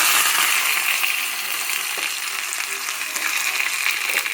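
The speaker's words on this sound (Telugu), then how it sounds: "కొద్దిగా కరివేపాకు, 4-5 పచ్చిమిర్చి, ఆవాలు 1/2 teaspoon ఆవాలు దీంట్లో వేసుకుందాం." Curry leaves, green chillies and mustard seeds tempering in a teaspoon of hot oil, giving a loud, close, continuous crackling sizzle with scattered pops, no voices.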